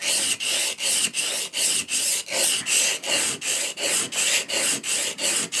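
A Melbourne Tool Co. cabinet scraper is honed on a sharpening stone with lapping fluid, making about fourteen steady, rhythmic rasping back-and-forth strokes, close and clear with no talk.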